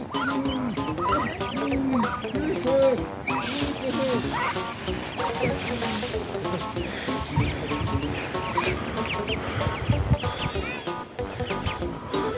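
Ducks at a lake quack and chatter in a busy cluster while being fed, close by, with a person speaking over the birds at times.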